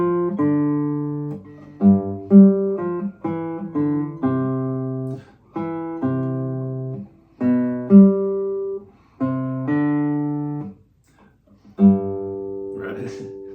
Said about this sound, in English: the bass line from the first measure sounds like this